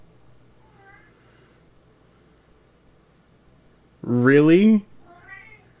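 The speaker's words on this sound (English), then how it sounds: "You're gonna choose now to meow?" A cat gives one loud, drawn-out meow close by, between quiet moments of someone speaking.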